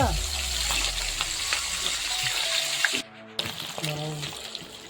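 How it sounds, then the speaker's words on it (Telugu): Chicken legs fry in hot oil, a loud, close, busy sizzle with bubbling and sharp pops and splatters, briefly dropping out midway, while someone talks over it. "వీటిలో ఇట్లా ఏగేటప్పుడు మాత్రం దగ్గర ఉండకండి అదో అలా వస్తుంటాయి నూనె పైన తులుతుంటుంది"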